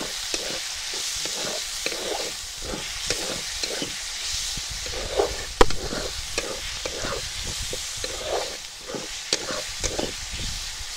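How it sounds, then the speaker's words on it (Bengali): Steady frying sizzle of green chili, ginger and garlic with repeated scraping strokes of stirring in a wok, a rhythmic stir every second or so, no talking. "এখন কাঁচা লঙ্কা, আদা, রসুন একটু নাড়াচাড়া করে নেই"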